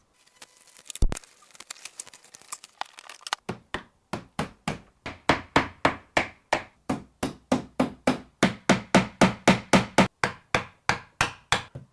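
A pine wood crate with nailed corners being pried open, starting with scattered creaks and one sharp crack, then a long run of rhythmic, evenly spaced loud squeaks and cracks as boards are levered apart.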